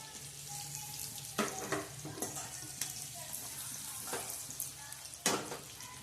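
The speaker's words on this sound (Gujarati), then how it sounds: "હવે નાખીશું તલ." Sesame seeds hit hot oil with curry leaves for tempering. The oil gives a steady low sizzle, broken by sharp bursts of crackling and spattering that flare up several times, close and fairly quiet.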